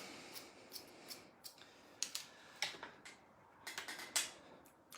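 Scissors snip through hair during a short layered bob haircut with classic triangular graduation, giving a string of crisp, close cuts that grow more frequent toward the end, with no talking.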